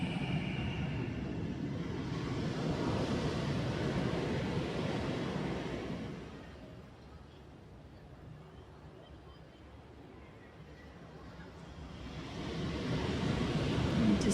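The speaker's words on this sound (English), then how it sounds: "Just listening to the waves" Ocean waves wash in as a broad, steady surf roar, ease off to a quieter lull midway, then swell back up again.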